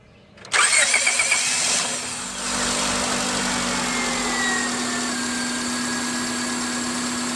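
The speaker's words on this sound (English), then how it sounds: "basically we're ready to start it. Give it a crank." A 2001-2005 Honda Civic with an automatic transmission and a newly replaced starter cranks briefly, then catches and settles into a steady close idle, with no talk.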